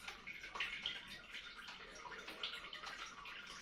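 Water flowing and bubbling from an air stone in a goldfish aquarium, a steady close splashing trickle with small drips, alone without talk.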